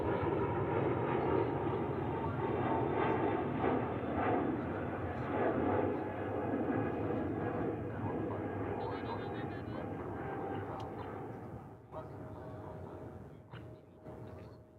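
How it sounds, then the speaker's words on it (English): An Airbus A321neo jet airliner at Dallas Fort Worth airport, a loud sustained engine roar with a whining tone that slowly fades over the last few seconds. "A321neo"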